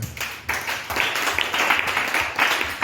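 A church congregation breaks into applause to acclaim the Lord, a steady wash of many hands clapping at moderate distance, sustained for a few seconds.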